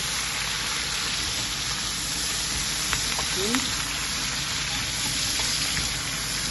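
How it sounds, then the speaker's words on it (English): Onion fries in a pot with a steady, even sizzle and crackle, close by, with an occasional light clink of a utensil. "Keep it so it's browning in while the onion frying up into it."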